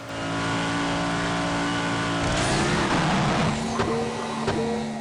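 Jet Car Stunts 2 car with a tank-like engine, a loud steady engine drone that swells into a rising rev and whoosh midway, then settles, with no talking.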